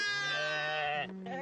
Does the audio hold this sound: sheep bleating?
yes